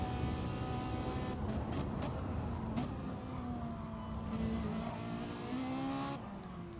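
A Ferrari 458 Competizione race car engine in a sim racing game drones at high revs in an onboard view, its steady tone rising and falling slightly between gear changes and staying loud and continuous.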